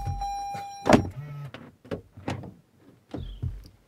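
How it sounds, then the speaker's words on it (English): A 2021 Toyota RAV4 door shuts with a solid thump, preceded by a steady door-open chime and followed by faint clicks and rustling nearby. "Let me go ahead and close the door to stop that annoying ding"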